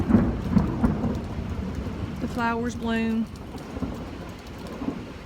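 Rain patters steadily while a low rumble of spring thunder rolls and echoes through the trees, and a person speaks briefly over the storm.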